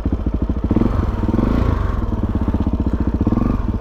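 A Suzuki DRZ400E enduro motorcycle with a broken Renthal handlebar rides slowly, its single-cylinder engine chugging steadily and close by in a rapid, even pulse with no talking.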